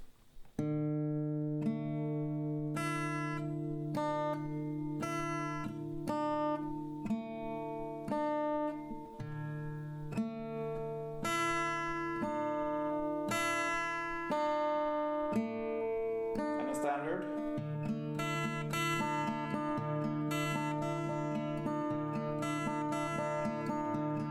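Acoustic guitar picking out a chord transition from a song, played slowly as a clear repeating fingerpicked pattern of ringing chords, close and alone with no talking.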